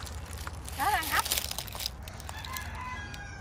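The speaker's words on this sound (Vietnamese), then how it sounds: "Ồ, con gà đang ấp kìa." A brooding hen gives a brief burst of clucks from nearby, amid quiet background noise and faint voices.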